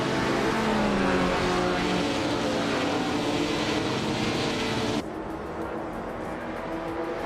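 A 1957 Ferrari 250 Testarossa racing at Rouen-les-Esses in a video game, its engine a loud, continuous high-revving drone that drops to a lower, quieter tone partway through.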